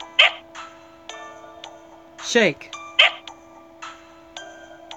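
A dog barks a few times inside Fate Grand Order, short game-audio yaps spaced across the moment with a voice talking over them.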